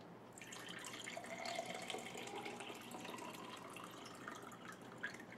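Steady trickle and patter of water running into a Brita Marina filter pitcher, continuous and fairly close, with small splashy drips and no talking.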